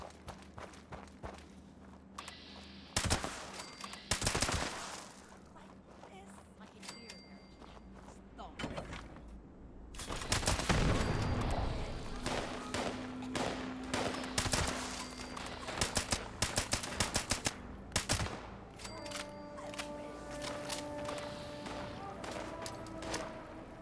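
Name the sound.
gunfire in a firefight, from the video game Fallout 76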